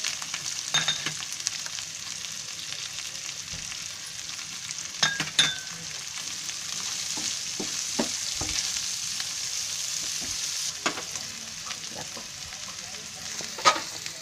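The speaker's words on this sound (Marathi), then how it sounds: "आता कांदा भाजून घ्यायचा आहे" Chopped onion sizzling and frying in ginger garlic paste in a pan, a steady close crackle with occasional stirring clinks and scrapes throughout.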